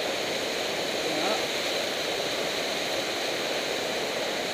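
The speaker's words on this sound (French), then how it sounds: "C'est torrent de montagne." A mountain torrent in the Hautes-Alpes roars close by, a dense unbroken rush of white water that fills the whole span at a steady, loud level.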